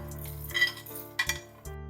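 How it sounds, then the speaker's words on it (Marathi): A few light clinks and scrapes of a spoon against metal containers as pav bhaji spices are tipped into a mixer jar, over a low steady hum. "एका मिक्सरच्या भांड्यात आपण हे काढून घेऊया"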